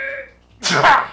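A single close, loud sneeze bursts out after a brief moment of voice and quiet, with a sharp onset and a short breathy tail.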